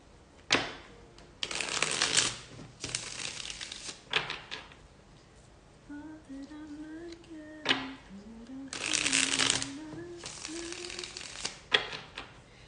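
A deck of cards is riffled and shuffled in several crisp, fluttering bursts, with a soft tonal hum in the quieter gaps between.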